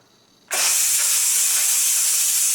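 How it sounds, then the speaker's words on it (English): A pressure cooker vents steam through its back latch while cooking beef short ribs. A loud, steady hiss starts abruptly and continues without a break, close by and with no voices over it. "there's a latch in the back that's going to release the steam"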